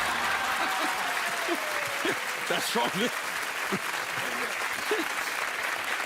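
Television studio audience applauding steadily in a French entertainment show, a continuous wash of clapping with a few short spoken remarks and laughs from people nearby over it.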